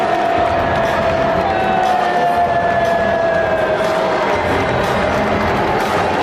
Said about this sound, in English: Trump got booed every time his orange face jump scared the crowd